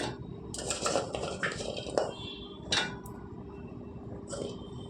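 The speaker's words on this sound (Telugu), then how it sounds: "ఉసురుగాయ ముక్కలన్నీ వేసుకోవాలండి." Amla (Indian gooseberry) pieces are dropped into a mixer jar for a ragi amla chutney, making a run of close hard clinks and clatters against the jar over a low background hum.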